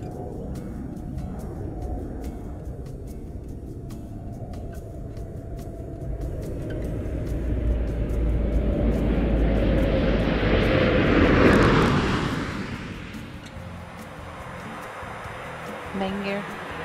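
Space Shuttle Discovery approaches the runway to land. A deep, distant roar builds steadily, peaks in a loud rushing swell, then fades away, with a commentator's voice running over it.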